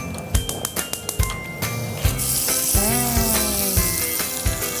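Mutton tikka sticks frying in a pan for a sizzling dish, with sharp crackles and pops at first, then a steady loud sizzle with clinks and scraping, close by.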